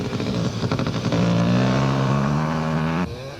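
KTM and Kawasaki motocross motorcycles racing at the Lichtenburg 400 off-road race in 1998 give a loud, steady engine roar that holds at high revs, then drops abruptly near the end.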